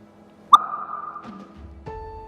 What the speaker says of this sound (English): the beautiful pop sound which arose due to the evolution of hydrogen gas